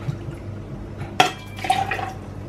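Bourbon poured into a glass for an Empire of Sin cocktail made with Fever-Tree ginger beer: one sharp close clink, then a short splashing trickle of liquid, with no talking.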